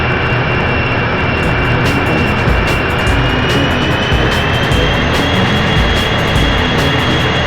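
Airplane engine in the video game 007 Racing, a loud, continuous jet roar with a steady high whine and a dense low rumble running unbroken throughout, with no speech.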